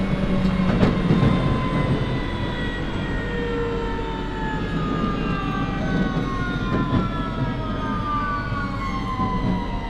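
A London Underground Victoria Line 2009 Stock train running between stations, loud and close, with a constant rumbling roar and rising and falling whining motor tones sweeping over it.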